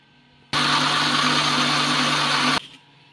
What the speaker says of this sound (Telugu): ఇప్పుడు మిక్సీ మెత్తగా పట్టేసుకుందాం